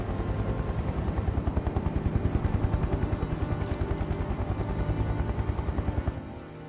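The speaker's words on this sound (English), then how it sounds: "I'm hearing a helicopter" A helicopter in the Final Fantasy VII Remake video game thumps steadily with a rapid, loud rotor pulse over a dense roar, continuing for several seconds before dropping away.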